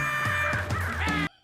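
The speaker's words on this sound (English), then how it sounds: "Sir, those darn birds are back." Crows caw loudly in a TV comedy scene, several harsh overlapping calls over a dense layered background that cuts off abruptly.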